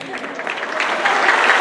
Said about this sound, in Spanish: Primera vez en mi vida que me aplauden tan fuerte